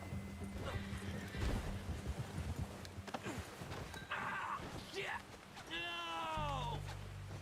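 A horse in Red Dead Redemption 2 gives a clear whinny near the end, preceded by scattered hoof clatter and game effects, all under ongoing speech.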